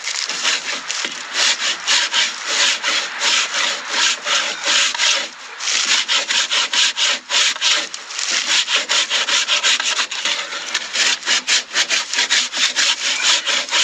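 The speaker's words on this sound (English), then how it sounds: "This is more like a rasp than a plane, but it's the same technique." A rasp files a wooden edge in quick back-and-forth strokes, making a coarse, steady scraping rhythm that is loud and close, with one brief pause partway through.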